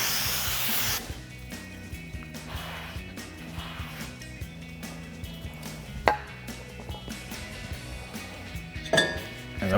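Brake cleaner aerosol sprayed onto a PowerStop 6-lug brake rotor, a loud hissing burst at the start followed by rubbing, wiping and light metallic clinks of the rotor being handled nearby.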